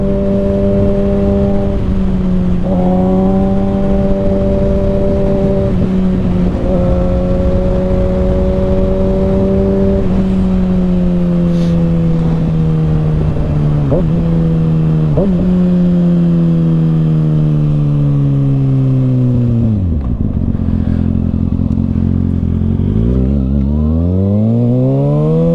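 A 2021 Kawasaki Ninja ZX6R fitted with an M4 Street Slayer exhaust, ridden on cold twisty roads, holds a steady high-revving drone with gear shifts and pitch swings, ending in a sharp deceleration, loud and close.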